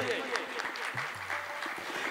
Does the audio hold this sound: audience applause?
yes